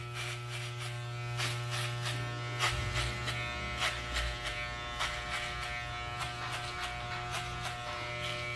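An electric hair clipper fitted with a number 3 guard hums steadily while cutting a fade, with a low mains-like drone beneath and rhythmic crisp pulses as it sweeps through the hair, heard up close.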